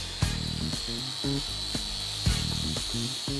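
A handheld power tool works a 45-degree weld joint on stainless steel tube, giving a loud close whir with repeated ratcheting, rhythmic mechanical bursts, and no talking.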